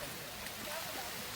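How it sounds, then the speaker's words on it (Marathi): Monsoon rain falls steadily in dense forest on a narrow footpath during a Sahyadri trek to Visapur Fort, near a waterfall. It is a brief, even wash of broadband patter with no distinct drops standing out. "पाऊस सुद्धा चालू झालेला आहे."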